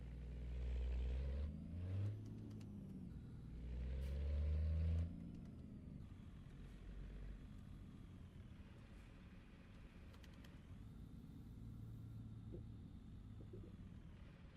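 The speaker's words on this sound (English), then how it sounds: "Suddenly there's a lot of traffic on this damn road." Road traffic passes in a truck-driving video game, heard as a low engine rumble with vehicles swelling by early on and then a steady hum of engine noise, with no talking.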